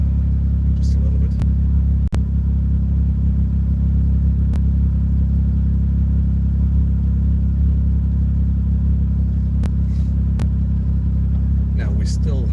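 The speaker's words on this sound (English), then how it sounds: "Let the engine warm up a little bit" A car engine idles steadily while warming up, a loud, constant close-up rumble with a few faint clicks over it.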